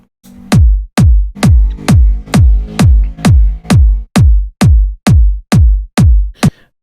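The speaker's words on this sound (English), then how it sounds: "We can turn off the EQ and play the original kick." An unequalised kick drum sample from an electronic track repeats about twelve times in a steady, loud beat, each hit a sharp click dropping into a deep booming low-end tail, with nothing else playing.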